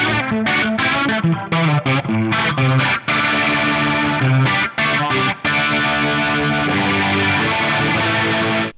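Distorted electric guitar riffing with a swirling modulation effect whose wobble grows faster as the playing continues, loud and steady.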